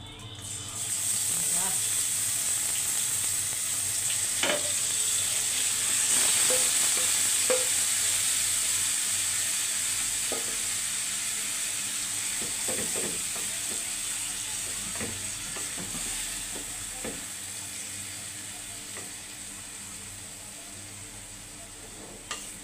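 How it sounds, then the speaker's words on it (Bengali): Marinated chicken with cumin seeds sizzling and being stirred in mustard oil for a chicken and potato curry, a steady hiss with scattered scraping clicks from the pan. "এখন দিয়ে দিচ্ছি একটু কাঁচা জিরা দিয়ে আমি মাংসটা দিয়ে দেবো।"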